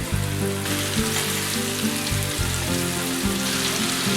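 Marinated prawns for a Kerala-style pickle fry in hot oil with a steady, close crackling sizzle like rain on a surface, alongside a low background hum and no talking.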